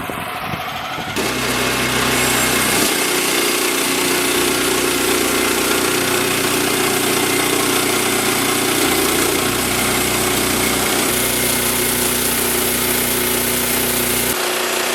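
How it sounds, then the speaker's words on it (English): A sawmill with a freshly fitted blade and a tightened belt runs loudly and continuously through a log, its engine droning steadily under a high, sustained cutting whine for most of the clip, with no talking. "I changed the blade on the saw"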